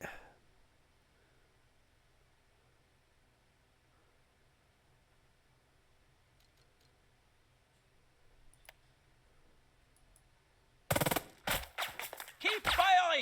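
Rapid gunfire in the tactical war game Burden of Command: after a long near-silent stretch, a loud burst of clattering shots and bangs erupts and continues in dense volleys to the end.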